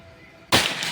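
A Predator Pajero Gen 6 air gun fires a single sharp, loud shot at a 50-meter accuracy test, a sudden broadband crack after a quiet lead-in, trailing into a brief noisy decay.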